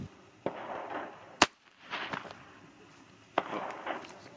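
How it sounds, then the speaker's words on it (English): Three sharp, loud gunshots ring out at uneven intervals as 9mm rounds are fired from a rifle with a 16-inch barrel at a Level 3A Kevlar vest, each crack followed by a brief echo. "we're gonna fire some rounds of 9mm, same rifle, 16 barrel"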